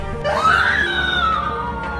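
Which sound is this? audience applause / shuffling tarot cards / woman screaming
woman screaming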